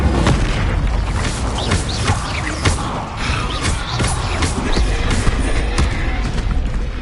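A fiery Incendio spell cast in the Hogwarts Legacy video game, a dense, continuous roaring burst with booming rumble and crackling impacts throughout, loud and sustained.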